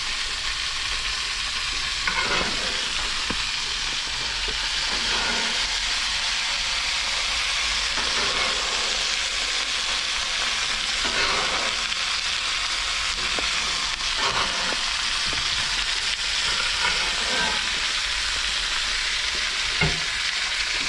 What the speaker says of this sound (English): now that the steak is nice and seared